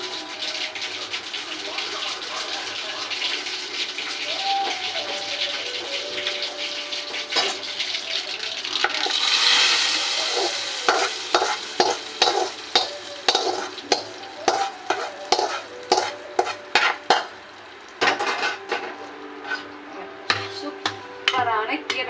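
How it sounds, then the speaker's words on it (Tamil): Mustard seeds, cumin and dried chillies dropped into hot oil for tempering: a loud rush of sizzling swells, then a rapid run of sharp crackling pops from the seeds bursting, close and alone. "கடுகு சீரகம் காஞ்ச மிளகாய் போட்டு நம்ம தாளிச்சிடலாம்."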